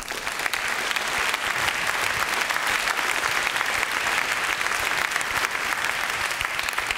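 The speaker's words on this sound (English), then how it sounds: "Another applause." Sustained applause from a lecture audience at an urban studies talk, a dense steady clapping that fills the whole stretch at a constant loud level with no voices rising above it.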